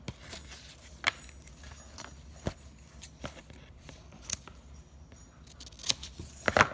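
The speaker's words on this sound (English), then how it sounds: "You're going to take a regular pair of scissors." Scissors snip paper in a few sharp, irregular cuts, close by and quiet, with faint rustling between them.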